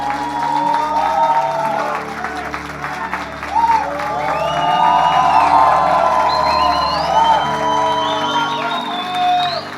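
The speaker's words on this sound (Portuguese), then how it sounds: "Dá uma salva de palmas pra Saulinho aí." Church congregation at a Sunday anointing service applauding and cheering, sustained clapping mixed with whoops and shouts over music, fairly loud and continuous.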